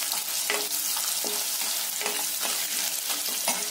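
Garlic fries in hot oil for tamarind rice, a steady close dense sizzle with periodic stirring scrapes every half second or so, no voices.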